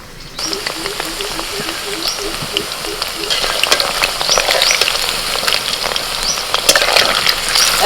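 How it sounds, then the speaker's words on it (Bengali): Battered chicken pakora fries slowly in oil over a low flame, giving a steady close sizzle and crackle that builds slightly louder, with light stirring clinks. "এরকম হালকা আঁচেতে আস্তে আস্তে করে কিন্তু ভাজতে হবে।"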